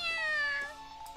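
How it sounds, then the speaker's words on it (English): A single short cat meow from the visual novel Grisaia, a clear, close, slightly strained mew with a falling pitch, heard alone and fading quickly. "To be fair, though, that was a really bad meow."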